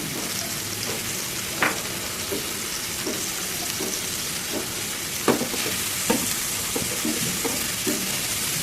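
Onions browning in a pan alongside lentils sizzle steadily at low level, broken by a series of sharp scraping stir strokes spread across the whole stretch.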